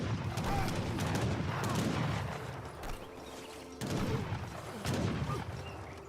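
Heavy cannon fire in the Age of Empires 3 strategy game, a dense volley of booming shots and battle clatter in two loud bursts with a brief lull between.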